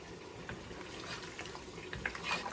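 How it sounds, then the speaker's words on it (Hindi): Mutton stock (yakhni) is poured into a cooking pot while making white mutton pulao, giving a soft, steady trickle and splash of liquid, faint and close, with no talking. "अब ये जा रही है इसमें यखनी"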